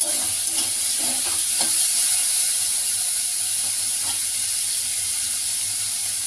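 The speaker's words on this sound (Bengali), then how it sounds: "এবার আলুটাকে একটু ভাজা ভাজা করে" Potatoes frying in a pan while being stirred, a loud, constant dense sizzle close up with faint scraping of a spoon now and then.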